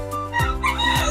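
A rooster crows loudly and close at a bird and pet market in Bocaue, with a drawn-out harmonic call amid other fowl sounds.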